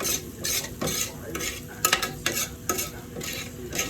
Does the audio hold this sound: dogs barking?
no